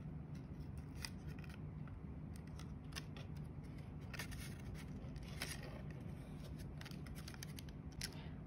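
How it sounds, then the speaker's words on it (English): Scissors snipping paper petals for a DIY paper peony, a series of quiet, crisp cuts in an uneven rhythm over a soft room hum. "I'm going to cut one more and place it here."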